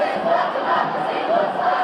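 Massive crowd of No Kings rally protesters marching through downtown Fort Worth, a dense, steady roar of many voices with rising chant-like swells, loud and continuous throughout.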